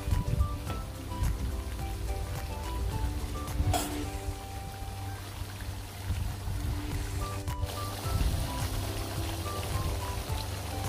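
Bicol Express with chilies simmers in a pot, giving a continuous, rain-like patter of bubbling that runs at an even level throughout.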